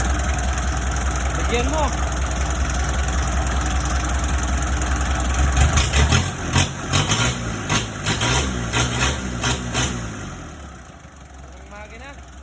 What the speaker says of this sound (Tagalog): Ang makina.